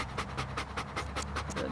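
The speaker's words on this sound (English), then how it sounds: "It is a little warm out today. We got a panting dog" A Bernese Mountain Dog pants rapidly and steadily on a warm day during a grooming session, close by, with quick rhythmic breaths at a moderate level.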